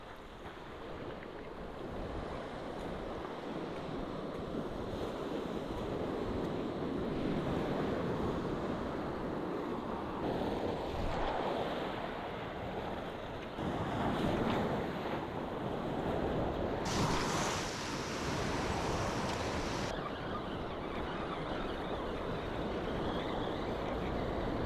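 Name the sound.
ocean surf waves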